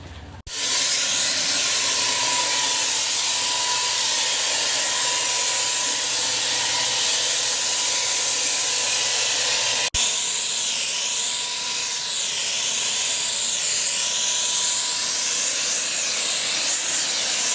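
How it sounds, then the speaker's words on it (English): An electric paint sprayer hisses continuously and loudly at close range, spraying Raptor bed liner on a 1998 Ford E-350 bucket truck, with a brief click partway through and a slight change in tone afterward. "The flex spray seems to be doing a really good job."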